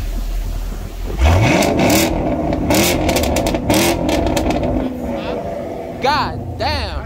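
Exhaust of a manual 2022 Chevrolet Camaro 2SS 1LE revving hard, rising and falling in loud surges with sharp blips near the end, under steady engine drone while people talk over it.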